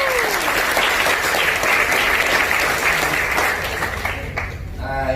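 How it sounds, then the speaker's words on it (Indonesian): Applause from an audience at a business presentation honoring a member named Mary, a dense burst of clapping that fades toward the end. "Aplaus dulu buat Mary"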